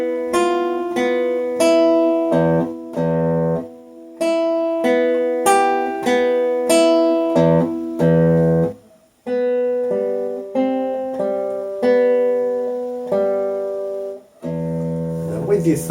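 A classical guitar is played close up in a steady cross-string fingerpicking pattern, thumb and fingers alternating across the strings in even repeated notes, ending with a brief strum.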